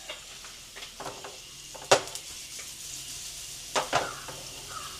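Onions fry in a pan for horse gram thoran and get stirred now and then. A faint, steady sizzle runs under occasional sharp scrapes and clinks of the spoon against the pan.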